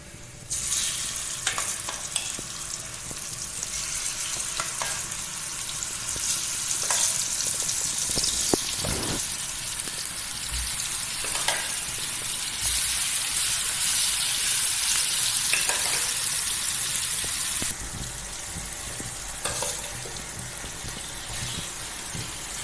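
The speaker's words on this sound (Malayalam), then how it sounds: "ഇനി ഈ പാനിൽ തന്നെ വെളിച്ചെണ്ണ ഒഴിച്ചിട്ട് ഒന്ന് ഫ്രൈ ചെയ്തെടുക്കുക" Soya chunks shallow frying in coconut oil in a pan, a steady loud sizzle running throughout with occasional stirring scrapes and clinks.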